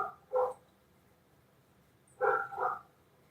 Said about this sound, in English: I don't know what them dogs doing tonight.